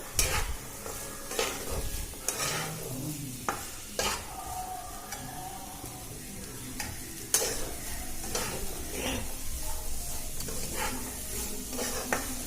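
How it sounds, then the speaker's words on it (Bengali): Chickpeas frying with spices in a pan give a soft steady sizzle, broken by repeated scraping strokes and clinks of a spatula stirring against the metal, close by and fairly quiet. "আমি এবার এটা খুব ভালো করে ভেজে নেব, মশলার সাথে ভেজে নেব ভালো করে।"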